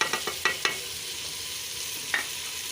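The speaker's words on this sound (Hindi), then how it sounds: "दस मिनट तक इसकी भुनाई करेंगे।" Tomato, green chilli and dry spices being sautéed for palak chicken, with a few quick spoon scrapes and taps at the start and another near the end over a steady soft frying hiss.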